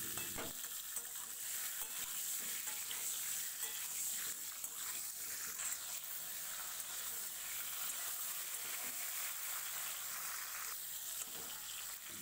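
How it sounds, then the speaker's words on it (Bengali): Pointed gourds (potol) fry lightly in oil while being stirred, giving a constant, near sizzle with occasional scraping and turning sounds from the pan. "এবারে ধুয়ে রাখা পটলগুলো এর মধ্যে দিয়ে হালকা করে ভেজে নেব, তারপর তুলে নেব।"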